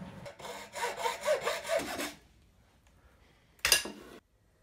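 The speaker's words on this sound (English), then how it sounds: "Using a hacksaw, saw off the excess." A hacksaw cuts through the excess end of a wooden stake, a close run of rapid rasping strokes for about two seconds, then a pause and one short final burst of sawing.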